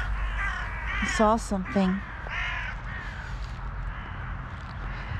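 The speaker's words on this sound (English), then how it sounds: "See, the birds got scared." Several crows caw in a short, startled burst near the start, harsh calls stacked close together, then fade out while someone talks at an evening feeding spot in Switzerland.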